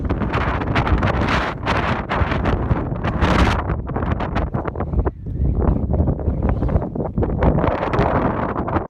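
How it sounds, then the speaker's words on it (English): Strong wind buffeting the microphone near the summit of Big Chief Mountain by the Blackfeet Reservation, a loud roaring rush in heavy gusts that barely lets up, no talking. "It's really windy over here near the Blackfeet Reservation."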